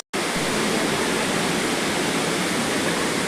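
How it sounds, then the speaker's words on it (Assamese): Water rushing steadily at Elephant Falls, a loud, unbroken roar of falling water that starts abruptly and holds an even level throughout, with no voices. "এটা জলপ্ৰপাত সেয়া দেখিছেনে একদম পানীৰ খল খল খল খল মাত"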